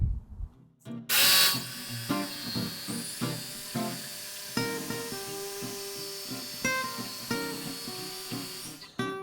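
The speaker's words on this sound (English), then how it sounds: "We're going to cut these free from the blank," Jigsaw cutting clock pieces free from a wooden blank, a steady buzzing motor with irregular stuttering cut strokes, close and loud throughout, stopping near the end.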